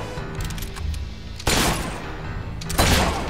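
Gunshots ring out during a bandit fight in Fable 3, two sharp, loud bursts of gunfire about a second apart over a low background rumble of game sound.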